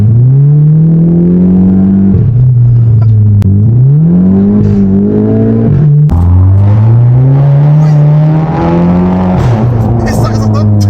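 A Volkswagen Golf 7 GTI with a loud, unusual setup, switched to sport mode with paddle shifters, revving hard and close, its engine note rising through several climbs and dropping at each shift, with voices heard over it.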